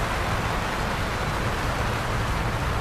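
Steady, loud rain pours down without pause in the 18 Wheels of Steel: Across America trucking game, a dense wash of noise with no talk over it.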